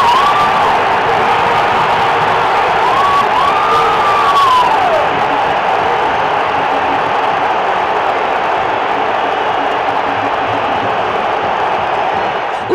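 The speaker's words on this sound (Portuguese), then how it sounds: "O grito de é campeão tomou conta do estádio." A stadium crowd of Fluminense supporters in Juiz de Fora roars and chants in celebration after winning the Primeira Liga title, a loud, dense wall of massed voices with whistles rising over it and holding steady throughout.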